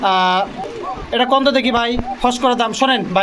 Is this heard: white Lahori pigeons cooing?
yes